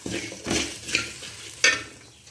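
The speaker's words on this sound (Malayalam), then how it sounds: "ഇതിലേക്ക് ചേർത്ത് തേങ്ങയ്ക്കൊപ്പം വറുത്തെടുക്കാം" Soft scraping and stirring of coconut and spices roasting in a pan with a light sizzle underneath, a few brief louder scrapes spaced across a couple of seconds.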